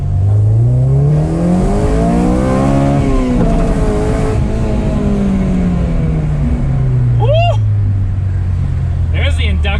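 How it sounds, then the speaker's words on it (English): A Honda Civic Si (FA5) fitted with a Skunk2 cold air intake revs up and back down, its induction roar swelling and falling close by, with a couple of quick chirps toward the end. "There's the induction noise."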